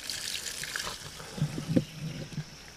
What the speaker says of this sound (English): we're just letting it drain out of the tank so we can wash the tank